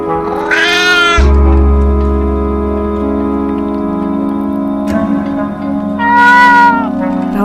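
Cat meows in the video game Memoranda, two drawn-out meows several seconds apart over a low sustained hum and soft ambient tones, loud and close, with no talking.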